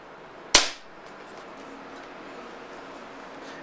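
A single sharp shot from an Air Arms HFT 500 PCP air rifle, a quick crack with a short decaying tail, followed by a faint, quiet background.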